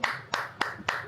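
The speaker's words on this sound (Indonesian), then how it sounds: "Saya tepuk tangan dulu." Four hand claps at an even, quick pace, close and fairly soft, each a short sharp slap with a brief ring of the room after it, with no talking over them.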